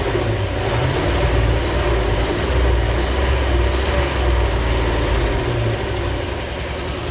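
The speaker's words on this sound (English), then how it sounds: "can rev it up and returns to idle" A Ford 351 Cleveland V8 with an upgraded throttle body runs loud and steady throughout, its engine note rising as it is revved and then easing back down to a rumbling idle, with no talking.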